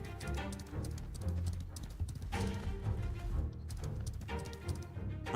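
Hooves of a horse clip-clopping in the fantasy MMORPG Ashes of Creation, a steady trotting rhythm under game music and ambient layers, with no talking.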